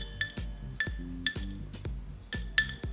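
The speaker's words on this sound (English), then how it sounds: "So I'm just gonna do a little bartender rough mortar and pestle here. So using my tin and my muddler." A muddler bashes ingredients inside a metal cocktail tin, producing about six sharp clinking knocks at a steady pace with brief metallic ringing after each, close and moderately quiet, without speech.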